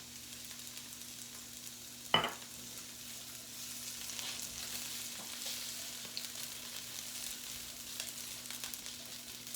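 Red peppers sizzling in a little oil in a pan, a steady soft frying hiss with a brief clatter early on as they are tossed or stirred.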